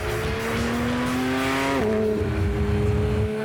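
A Porsche GT3 RS sports car driving on the road, its engine droning steadily close by with a pitch shift as it shifts or brakes, constant and loud throughout with no talk.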